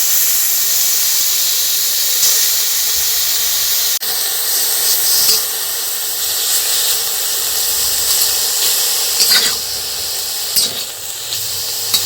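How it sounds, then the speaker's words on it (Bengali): Vinegar, salt and turmeric marinated chicken hitting a hot dry heavy-bottomed iron wok with no oil, a loud continuous steamy hiss with a sharp jolt near the start and small crackles later, no speech. "লবণ, হলুদ, ভিনিগার ম্যারিনেট করা চিকেনটা দিয়ে দেবো"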